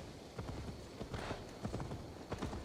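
A horse's hooves clip-clop in Assassin's Creed Valhalla, several quick, uneven hoof strikes close by at a trotting rhythm, with no voices over them.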